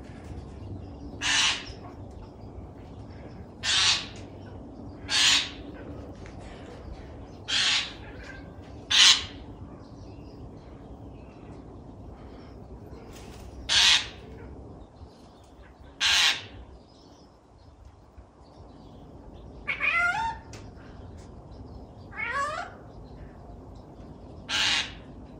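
A jay mimicking a cat's meow, heard as a series of sharp, evenly spaced calls over a steady outdoor background, ending with a couple of wavering, drawn-out mews.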